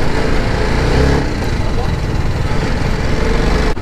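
An Apache 310 motorcycle is ridden along a ring road. Its engine gives a loud, steady, close drone mixed with wind rumble, continuous for the whole stretch.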